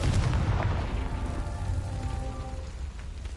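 Confringo blasting spell from the Hogwarts Legacy video game, a deep booming explosion that fades into a crackling, rumbling tail, loud and close with no talk.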